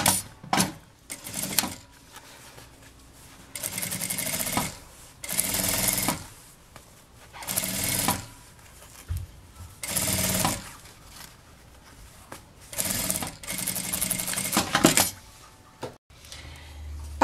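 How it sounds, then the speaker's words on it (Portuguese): A sewing machine stitches a seam along the lining of a handmade bag in repeated bursts of rapid whirring, each lasting a second or two, separated by pauses with faint handling sounds. "Alinha a parte reta e passa a costura novamente"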